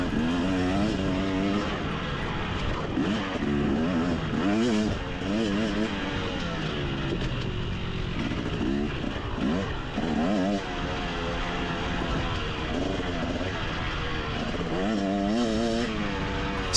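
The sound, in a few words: 250cc dirt bike engine racing on track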